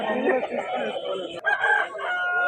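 Roosters crow over and over at a busy rooster market in Vijayawada, several birds calling near and far amid clucking fowl, with people talking in the background.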